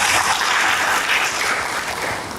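A church congregation breaks into sustained applause for the Lord, a thick, even roar of many hands clapping that tapers slightly toward the end.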